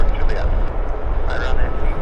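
Airliner departing Vancouver International Airport (YVR), a steady broadband engine roar that holds at an even level throughout, with people talking over it.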